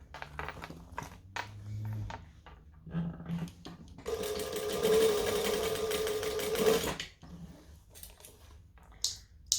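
A sewing machine stitches a seam for a metro bag in one steady burst of several seconds, reversing to backstitch at the end to lock it, with quiet handling noises before and after.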